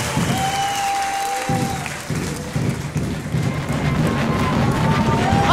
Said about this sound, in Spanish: Un aplauso para la saya afro boliviano